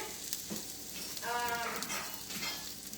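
Tomatoes heat with bruschetta and fresh garlic in a pan, giving a soft, steady sizzle with brief stirring scrapes, quiet and close.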